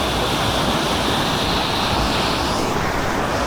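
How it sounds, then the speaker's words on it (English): Loud, continuous roar of rushing creek water, close and unbroken, a dense wash of white-noise turbulence with no other sounds. "I don't know if you can hear me over all this rushing water"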